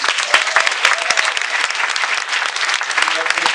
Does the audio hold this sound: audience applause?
yes